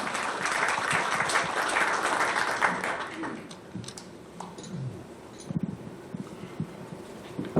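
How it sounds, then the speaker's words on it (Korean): Seated audience at a Korea–China 30th anniversary diplomatic forum claps for an ambassador taking the stage, a dense burst that fades after a few seconds into scattered claps and light movement noise. "박수 부탁드리겠습니다"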